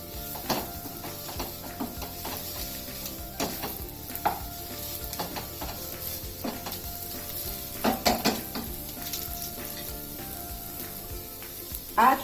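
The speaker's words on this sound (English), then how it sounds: "Now I'm adding some onions to it." Onions sizzle as they fry in a pan during a cooking show, with steady close frying hiss and a few sharper clatters of stirring against the pan.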